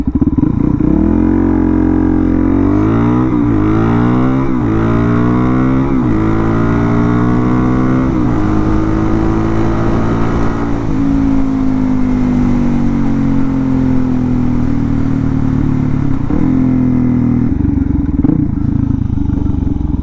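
A Suzuki DRZ400SM supermoto runs from a standstill to about 70, its loud single-cylinder engine revving up through several gear changes with rising and falling pitch, then settling into a long steady pull.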